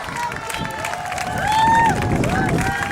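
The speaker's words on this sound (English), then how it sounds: "give this guy a cheer" A crowd at a half marathon finish cheers and claps as runners come in, with a swelling roar, whoops and babble. A voice on the public address is heard over it.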